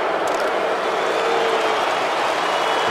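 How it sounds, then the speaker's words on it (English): Steady, dense crowd roar in a football stadium in Madden Mobile, a sustained disapproving noise from the stands with no clear breaks. "The crowd did not like that at all."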